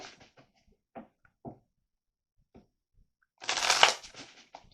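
Tarot cards are shuffled in one loud, close burst of riffling lasting about a second, preceded by a few soft handling taps and rustles.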